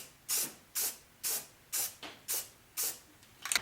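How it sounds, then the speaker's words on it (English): Spray paint can sprayed in six short, evenly spaced bursts onto a car hood pin while fitting flush-mount quick-release hood pins, each hiss close and loud, with a brief rattle at the end. "So take that off, spray from the bottom."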